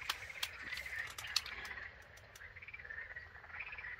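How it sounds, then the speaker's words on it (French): Evening frog chorus at a pond, many frogs croaking continuously in overlapping bursts at moderate distance, with no talk over it. "Et le concert de grenouilles."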